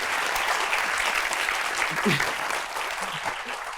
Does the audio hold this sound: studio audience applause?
yes